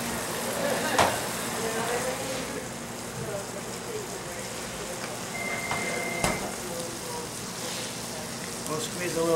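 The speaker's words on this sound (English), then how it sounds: "the basting of the brown butter on the seafood was really cool" Fish fillet sizzling in a hot pan while brown butter is spooned over it, a steady close frying crackle running throughout with a couple of sharp utensil clinks and a brief beep.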